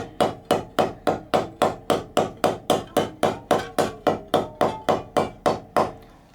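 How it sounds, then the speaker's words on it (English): A ball peen hammer strikes the teeth of a handsaw in a steady, even rhythm, about twenty light ringing taps in a row, close and clear with no talking. "I just lift it ever so slightly and then just drop the hammer"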